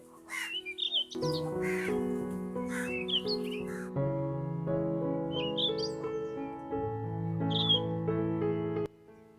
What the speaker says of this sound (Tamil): அந்த கோழி கழுவின தண்ணிக்கு நாய், காகம், கோழி எல்லாம் எப்படி சண்டை பிடிக்குதுண்டு